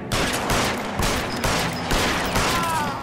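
Gunfire in the video game L.A. Noire: repeated sharp shots ring out in uneven bursts, loud and close, several distinct cracks across a few seconds with a noisy backdrop and no talking.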